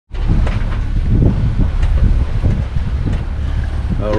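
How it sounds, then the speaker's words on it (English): Wind on a sailboat in about 8 knots of true wind: loud, continuous buffeting rush with gusty rumbles close to the microphone, steady throughout with no talk. "right now we have close to 8 knots of true wind"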